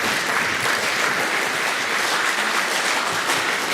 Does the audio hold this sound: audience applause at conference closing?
yes